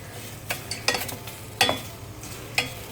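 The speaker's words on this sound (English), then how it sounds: "Keep stirring it because it may get stick to the bottom since there's no oil." Okra (lady fingers) is stirred in a dry saucepan with no oil, giving a faint background sizzle and about five sharp scraping strokes of a spoon against the pan, close, without speech.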